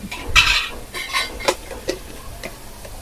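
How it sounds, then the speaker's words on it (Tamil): Momo filling is sautéed in a pan, with scraping stir strokes and soft clinks of a spatula over a light sizzle, close and rhythmic over a few seconds. "போட்டு கொஞ்சம் நல்லா வதக்கிக்குவோம்"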